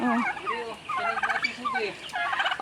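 Several turkeys gobble nearby, their rapid bubbling calls repeating every second or so and overlapping one another.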